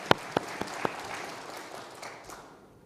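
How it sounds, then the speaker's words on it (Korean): A church congregation applauds during an Easter Sunday worship service, a few sharp claps standing out at the start before the clapping thins into a soft, fading patter. "우리 주님께 감사와 영광의 박수 올려드립니다"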